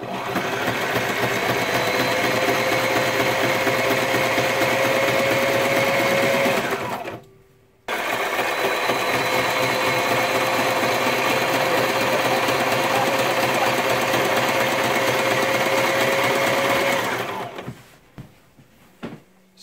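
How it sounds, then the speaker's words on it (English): An electric sewing machine runs in a steady, loud mechanical whir, stitching an EL panel patch onto a cotton T-shirt, with a short pause near the middle before it resumes and then stops near the end. "we're stitching around the perimeter of the patch, simply sewing this on just like you would"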